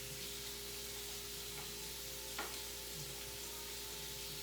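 Food frying in a pan, turned partway to crisp on the other side: a quiet, steady sizzle and crackle with a faint hum underneath and one brief sharper pop midway.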